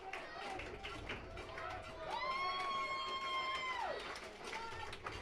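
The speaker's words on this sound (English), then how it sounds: "Listen to this crowd enjoying this 10-run lead." Baseball crowd at a ballpark, a broad murmur of cheering and chatter from the stands with a sustained whistle or horn tone rising through the middle, continuous and moderately distant.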